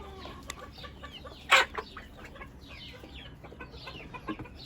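A small backyard flock of young hens clucks and chirps softly nearby, the murmuring calls overlapping, with one brief louder squawk standing out.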